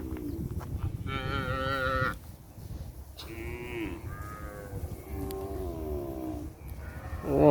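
Cattle out grazing in an open field give repeated close, loud moos and bellows, some long and drawn out, over a constant background rumble.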